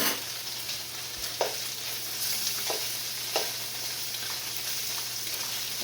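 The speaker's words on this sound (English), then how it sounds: "it only takes a matter of minutes to get bologna fried up." Bologna slices fry in a hot pan on a home kitchen stove with a steady sizzle, punctuated by a few soft scraping and clinking touches, close and moderately quiet with no talking.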